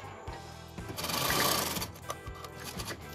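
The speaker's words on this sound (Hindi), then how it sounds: "इसकी स्टिचिंग कर देंगे" Sewing machine stitching a folded edge on a kitchen apron, a short burst of fast, rhythmic mechanical whirring that swells and then eases, close and fairly quiet.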